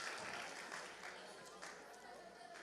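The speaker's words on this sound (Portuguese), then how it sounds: "Palmas para ela, gente." An audience claps steadily at a Portuguese-language church talk, a soft, continuous patter of applause from a crowd, with a voice speaking faintly over it.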